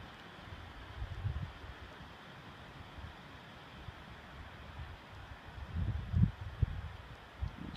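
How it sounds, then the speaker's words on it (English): Strong wind at a pond buffets the microphone in low, irregular rumbles over a steady rushing background, with gusts swelling near the start and more heavily near the end. "It's really windy out."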